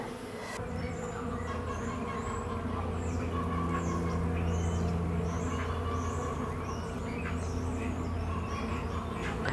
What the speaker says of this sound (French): qu'est-ce que ça bourdonne? C'est absolument incroyable.